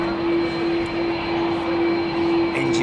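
Airliner jet engines roaring steadily on an evening departure from Heathrow Airport, a loud continuous broadband rumble with a sustained tonal hum running through it and no break over the few seconds.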